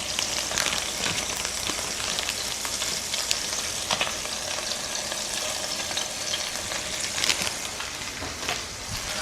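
Burger patties fry in a pan under melting Tillamook extra sharp cheddar, giving a steady, close, crackling sizzle that runs without a break and has no talk over it.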